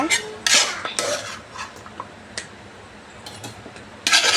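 A spoon scrapes and clatters against a pan as ginger garlic paste is sautéed for an egg curry, with sharp metallic knocks and strokes spaced irregularly over a faint, low background.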